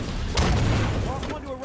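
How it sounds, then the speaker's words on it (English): Scattershot blasts boom in Halo 5 multiplayer, a heavy low burst hitting near the start and rumbling out while a game announcer voice speaks over it. "Enemy scatter shot."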